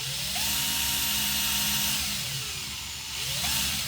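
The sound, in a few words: Parkside PBSA 12 C2 12V cordless drill with 3 mm Bosch bit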